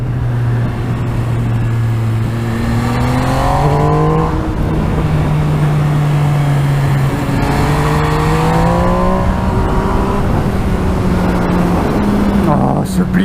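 MV Agusta Dragster 800 RR three-cylinder motorcycle with an auto-blipper, its engine revving in rising and falling sweeps as it shifts, loud and continuous under wind noise.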